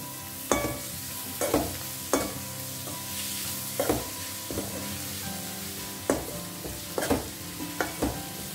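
Roughly chopped fenugreek leaves (methi) frying in a pan over high flame, with a soft continuous sizzle broken by repeated sharp scrapes and clanks as the leaves are stirred.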